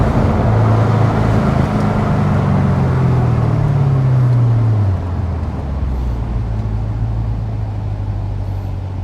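Vintage Corvette race car engines roar loudly and continuously on a road course track at a vintage grand prix, a deep engine drone with pitch sweeps as cars pass, settling into a steady rumble from more cars behind.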